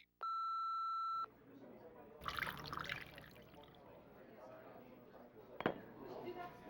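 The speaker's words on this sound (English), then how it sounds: "leave your message after the beep." A single long, steady electronic answering machine beep at one pitch lasts about a second, then gives way to faint room noise and quiet background sounds.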